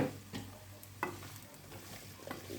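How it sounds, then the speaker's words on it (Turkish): Fresh green beans fry in a pan, a soft low sizzle broken by a few stirring scrapes and knocks of a spoon, close but quiet, with no voices. "bir iki karıştıra karıştıra kavuracağım"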